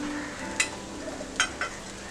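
Egg fried rice with freshly added spring onion greens fries gently over a low flame, a soft sizzle punctuated by three quick scrapes or clicks of a spatula against the pan.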